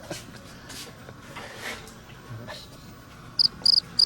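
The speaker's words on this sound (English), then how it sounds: "Install cricket sound here." Faint rustling gives way to a few sharp, high cricket chirps near the end, three quick bursts in a row.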